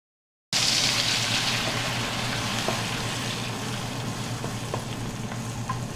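Brown-fried onions sizzle steadily in a pan as tomato pieces go in and get mixed, a dense continuous hiss with a few faint clicks of the spoon, no voices.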